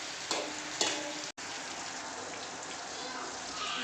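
Stuffed okra cooking in oil with masala, a soft continuous sizzle and bubbling at moderate volume, with a couple of faint clicks and a momentary dropout near the start.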